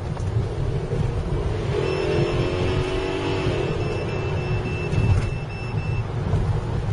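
A road vehicle's engine revs hard and high during aggressive driving, its rising whine swelling in the middle under steady road rumble, with a faint high tone running alongside.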